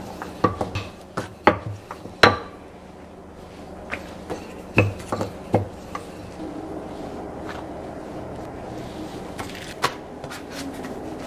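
A lid set back onto a cooking pot of beef simmering in red chile sauce, giving several sharp metallic clanks and knocks in the first few seconds, then quieter scattered taps over a low kitchen hum.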